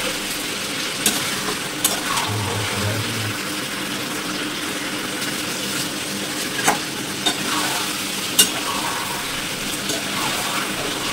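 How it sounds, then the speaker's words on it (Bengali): Mutton pieces and large chunks of potato fry and are stirred in a pan, giving a loud, continuous sizzle broken by a few sharp scrapes of the spoon. "তো মাংস কষানো কমপ্লিট"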